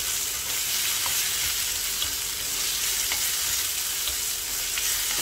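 Tomatoes sauté in hot oil in a pan for a green gram dal curry, giving a loud, dense, unbroken sizzle with faint crackles throughout.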